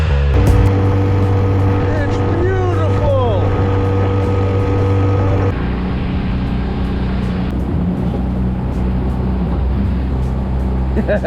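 Fishing boat crossing windy Moar Lake, its outboard motor droning loud and steady with wind and water noise throughout, the engine tone shifting partway through as the hull pounds across the waves.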